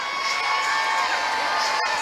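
A Houston basketball arena crowd cheers for Steph Curry of the Warriors, a dense, continuous roar of voices and whoops at steady volume with no single voice standing out.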